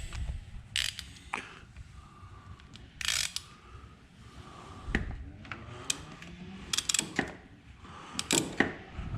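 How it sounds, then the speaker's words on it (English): A socket ratchet wrench clicks in short, irregular bursts while loosening a bolt in the engine bay of a 2007 GT500, with close metallic ratcheting and occasional clanks of tools. "now I can put a socket on here and wrench this guy out normally"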